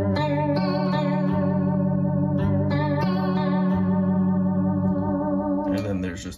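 A Roland GR-20 guitar synthesizer, triggered over MIDI through a Roland GK3 pickup on a Liger guitar, plays a sustained bass tone with chorus-like shimmer and a few pitch changes, loud and alone before fading out.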